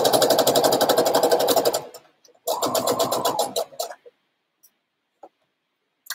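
Sewing machine stitching face masks in two quick bursts of rapid mechanical clatter, close and loud, followed by a few isolated clicks and brief pauses.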